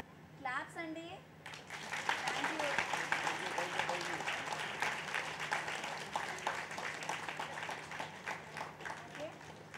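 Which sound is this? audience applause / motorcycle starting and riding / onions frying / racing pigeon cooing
audience applause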